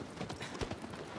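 Horse hooves clip-clopping at a steady trot in the game Shadow of the Colossus, a quick even rhythm of soft hoof falls, moderately quiet with no speech.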